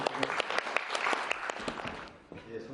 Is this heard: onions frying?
no